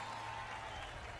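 A festival crowd at a folk music concert applauds a violinist and arranger being introduced on stage, a steady wash of clapping that stays faint and even throughout with no voices over it.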